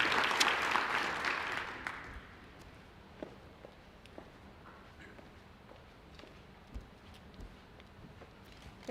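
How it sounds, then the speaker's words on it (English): An audience at a student awards ceremony applauding, a burst of clapping that fades over about two seconds, leaving a quiet room with scattered shuffles and occasional knocks. "I hope that you'll give a round of applause for Marshall Garrett"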